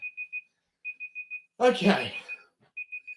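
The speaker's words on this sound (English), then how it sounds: "Ah, the timer ran out." A repeating electronic timer alarm beeps in quick bursts of three and four during a live game show, stopping while a voice talks briefly, then resuming.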